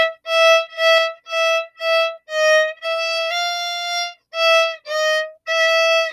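A solo violin plays a melody in third position, as a string of separate bowed notes with short gaps, close and clear, with one longer held note in the middle.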